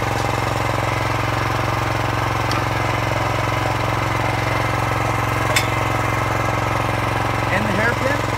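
A mini excavator engine runs with an auger attached, a loud steady droning rumble throughout, with a few faint clicks and a brief voice-like sound near the end.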